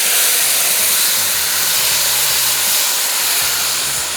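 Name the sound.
mutton added to hot oil with cumin, sizzling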